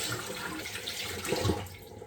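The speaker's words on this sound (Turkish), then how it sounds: "Ama yıkamadan önce şimdi elimi bir yıkayayım ilk" Running tap water splashing over hands at a bathroom sink during a skincare routine, a steady close rush that briefly grows louder mid-way before easing off, with no talking.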